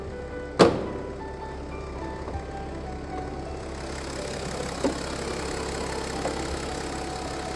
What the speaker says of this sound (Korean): 자 엔진 소리요